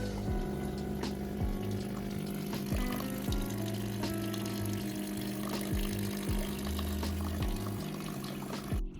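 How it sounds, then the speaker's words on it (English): HiBrew H10A espresso machine running a descaling rinse cycle with clean water, its pump humming steadily under continuous water flow, with periodic low pulses and clicks across the whole stretch. "run the descaling cycle again to rinse out any remaining solution."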